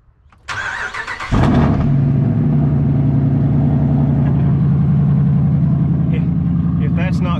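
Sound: truck engine running

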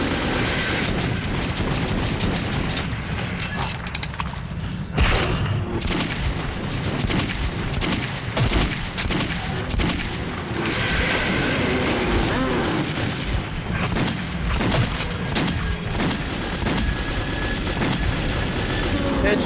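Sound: gunfire in video game Metro 2033

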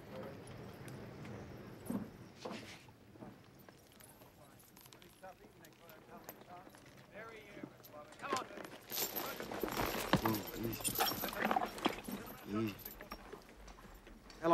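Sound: horse hooves clip-clopping

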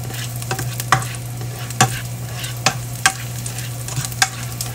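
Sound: frying and stirring ingredients for laing until brown

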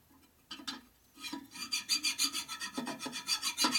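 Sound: metal file filing an engine part

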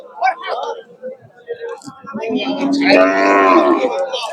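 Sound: cattle at a livestock market

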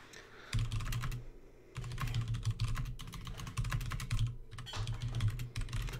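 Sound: typing on a computer keyboard

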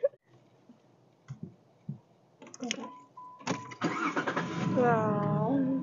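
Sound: rebuilt Jeep engine starting

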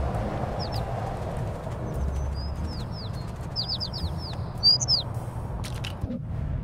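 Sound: bird chirping in Little Kitty, Big City video game

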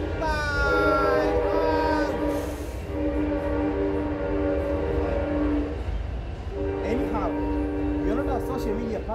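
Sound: train passing by

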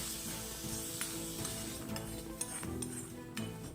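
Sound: stirring onions in a frying pan

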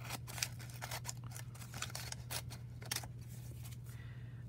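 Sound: scissors cutting open a mail envelope

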